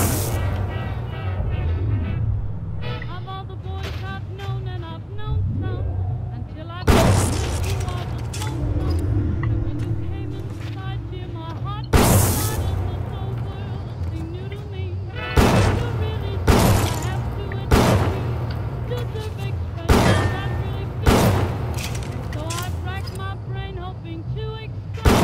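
Gunfire in the video game Bioshock crackles in repeated bursts over an ongoing din of game noise and loud impacts, with people talking throughout.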